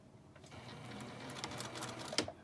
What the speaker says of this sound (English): now I'm going to stitch all the way around with a 1/4-inch seam